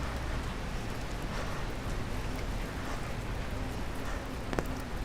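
Steady rain falling on a Manhattan street, a constant even hiss of drops on pavement with faint distant city background and no talking.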